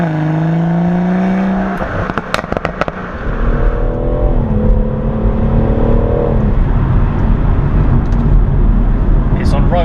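A BMW M140i engine revs hard and climbs in pitch, then a crackling burst of exhaust pops before it accelerates again, loud and close.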